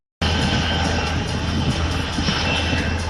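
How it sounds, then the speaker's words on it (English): A Taipan military helicopter flies past at an airshow, its loud engine and rotor roar holding steady and near for a few seconds with no talk. "The Taipan helicopter is ideal for casualty evacuation as it is fast"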